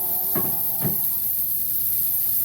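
Steak laid gently into a hot pan for steak au poivre, giving a steady faint sizzle with two short soft contact bursts near the start, no talk.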